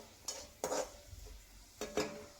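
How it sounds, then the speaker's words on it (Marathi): Spices and turmeric stirred in a pan over a low flame, four soft scraping strokes of a spoon against the metal over a faint sizzle, quiet and close. "आणि थोडीशी हळद हे आपण छानसं हलवून घेऊयात."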